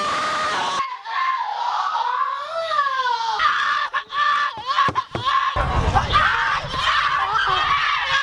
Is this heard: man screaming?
yes